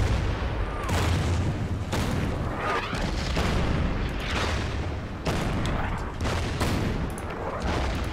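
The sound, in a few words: artillery fire in the video game Order of Battle: Sandstorm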